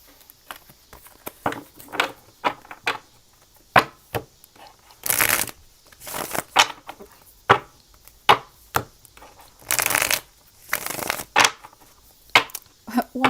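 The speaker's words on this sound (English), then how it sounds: "Needed a little shuffle, apparently." Tarot cards are shuffled by hand in a long series of quick, crisp riffling and tapping bursts, some louder and longer than others, recorded close up.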